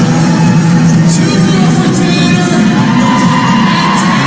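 At a CrossFit regional competition, a loud, dense crowd cheers and whoops continuously for an athlete finishing air squats, with shouts and yells rising out of a steady roar.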